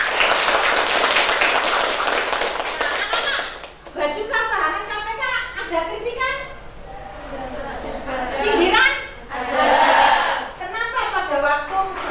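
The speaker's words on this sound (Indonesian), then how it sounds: "Tepuk tangan." Classroom applause rings out for about four seconds, a dense burst of clapping hands, before children's voices take over with chanting and talk that continue to the end.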